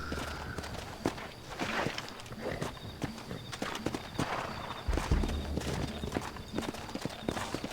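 Steady clip-clop of horse hooves walking at an even rhythm in the video game Red Dead Redemption, close by, with faint background ambience.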